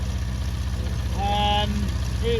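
Honda CB400 Four engine idling during carburetor adjustment on a classic motorcycle restoration, a steady, even low throb throughout, with people talking faintly over it in the middle and near the end.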